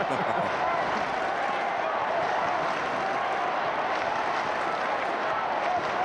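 A crowd of about 36,000 at the Gabba in Brisbane roars and chants for Brisbane during a 2000 AFL match against Carlton, forming a dense, continuous wash of distant cheering with a commentator talking over it.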